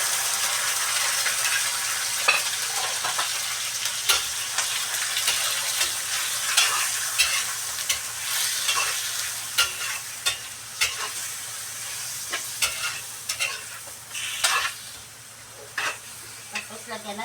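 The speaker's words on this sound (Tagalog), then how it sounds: "Tapos, ibigisa na ni ate Con ang chicken." Chicken sautés in a hot pan with a constant bright sizzle. Sharp scrapes and knocks from stirring repeat irregularly over it throughout, close and fairly loud, with no talking.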